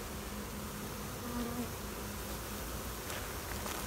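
Freshly shaken honeybees swirl around a frame of honey in a steady, dense buzz, unbroken and fairly loud, with no voices over it.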